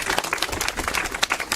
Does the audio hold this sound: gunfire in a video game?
no